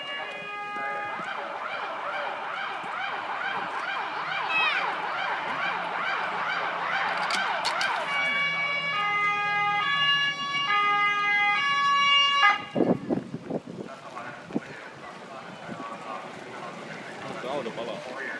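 A police car siren wails in steady rising and falling cycles at a volunteer fire brigade demonstration, loud and near, then switches to a faster yelp before cutting off, leaving rumbling vehicle noise and a few clunks; voices talk throughout.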